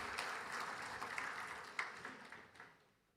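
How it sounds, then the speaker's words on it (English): Faint, distant audience applause for a government minister at an education conference keynote, a soft patter of clapping that thins out and dies away by the end. "Give an applause to him."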